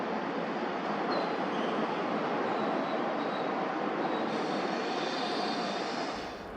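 A heavy, continuous rumble of a coal and container freight train rolling into a Canadian rail yard, loud and steady, with faint squeals and hiss over the low roar.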